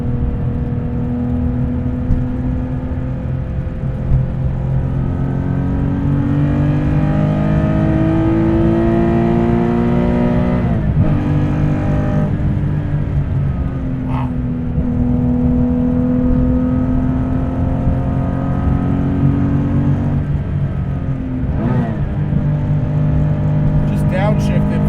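A Guntherwerks 400R engine revs loud and close from inside the car, rising and dropping in pitch through downshifts with blips and heel-toe throttle, while a person talks over it.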